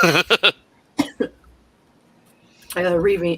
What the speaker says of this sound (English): Sorry. Cough, cough.